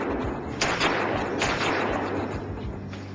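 Shotgun blasts on a duck hunt, two or three booming reports with a long, echoing decay over steady low outdoor noise.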